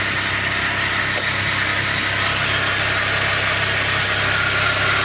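A Dodge Chrysler car engine idles just after a cold start on a car with a transmission fault, a loud, steady, unbroken rumble with no one speaking.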